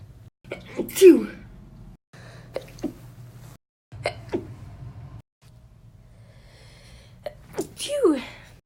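Several sharp sneezes from a single person burst out at close range, spaced by short quiet gaps, with small catching breaths between them.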